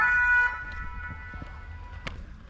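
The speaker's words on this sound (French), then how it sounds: "il y a les pompiers en plus qui passent" A fire engine siren passes by, a short tonal wail that is loudest at the start and then fades, followed by faint traffic noise and a brief clatter.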